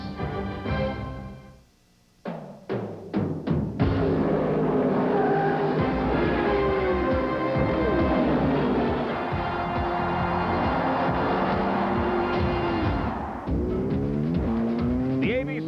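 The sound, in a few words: Indy Racing League race car engines, Las Vegas 500K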